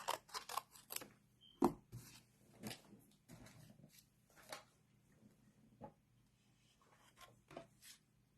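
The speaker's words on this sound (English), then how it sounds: "so I'm just gonna cut this little piece." Scissors snip a small piece of glow paper for a Halloween treat craft, making a series of close, crisp cuts in irregular bursts with short pauses between them. It is quiet and no one speaks.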